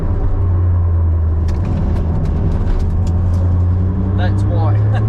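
A Suzuki Cappuccino with a faulty driveshaft or CV joint drives along, its rear end giving a loud, steady low droning rumble with road noise and a few faint squeaks near the end.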